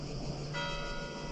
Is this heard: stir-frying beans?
no